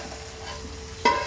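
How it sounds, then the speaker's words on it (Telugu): Semolina being fried in ghee for jaggery payasam, a soft steady sizzle with stirring scrapes, closely miked, with a louder clatter near the end and no talking. "బెల్లం పాయసం కోసం కావాల్సిన రవ్వని అయితే మనం నెయ్యిలో కొంచెం వేయించుకుందాం"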